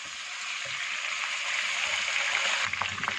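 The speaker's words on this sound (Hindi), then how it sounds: "अच्छा सा चिकन पे गोल्डन कलर आने तक इसे फ्राई कर लेंगे।" Chicken pieces frying in oil with black cardamom, cloves and a cinnamon stick for a white chicken karahi, heard as a steady close sizzle and hiss with no voices.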